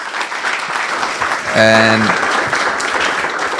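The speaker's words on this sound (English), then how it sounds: "the panel deserves a round of applause" A conference audience gives a panel discussion a round of applause, a steady, loud wash of clapping throughout, with a brief tonal chime and a spoken word over it.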